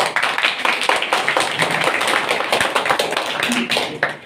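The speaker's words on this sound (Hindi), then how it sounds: "ताली बजाओ।" Students clap in a classroom during a career day programme at a government senior secondary school in India: a dense run of sharp, uneven hand claps lasting the whole moment, mixed with murmuring voices in the room.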